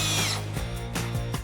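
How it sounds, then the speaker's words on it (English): Power drill boring pilot holes into Adirondack chair wood, a loud whining run at the start that drops into a few short buzzing bursts, close up in a workshop. "Let's clamp it in place and then pre-drill our holes."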